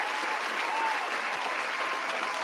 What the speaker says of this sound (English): Round of applause to everybody out there.